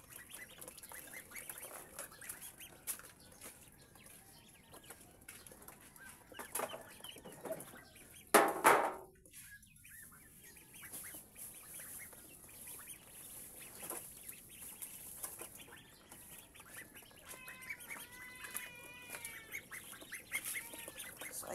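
Baby ducks peeping and calling while being fed, a faint, steady chorus of small chirps with one brief louder knock partway through.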